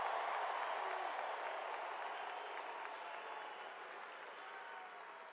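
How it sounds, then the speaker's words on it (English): A large stadium crowd at a football national championship celebration applauds the coaching staff, a broad, distant-sounding roar of clapping that holds steady and slowly fades. "So I want to give our staff a tremendous round of applause for how much they sacrifice."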